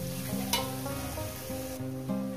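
Masala fries in a pan before chicken goes in, a soft, steady sizzle with occasional stirring scrapes beneath a tonal music bed.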